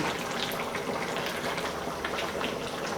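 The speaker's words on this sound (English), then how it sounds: "Just going to pour this into the stew." Cornstarch slurry pours into a pot of Cantonese beef and potato stew, giving a steady liquid hiss and bubbling over the heated pot for a few seconds.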